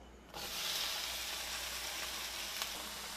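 Onion drops into a preheated pan of olive oil over medium heat and a sudden loud hiss starts, then settles into a steady, even sizzle.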